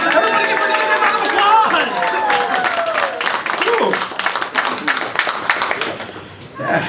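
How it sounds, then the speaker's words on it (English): An audience breaks into loud, sustained applause and cheering, dense clapping filling the room for several seconds while a voice talks over it. "Everybody give her a big round of"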